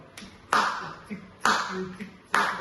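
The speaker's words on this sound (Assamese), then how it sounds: "আমি বিহুত হাত চাপৰিটো কেনেকৈ মাৰোঁ" Hand claps in a Bihu rhythm during a dhol lesson: three sharp, fairly loud claps spaced about a second apart, each with a quieter softer tap between them, close by with no talk.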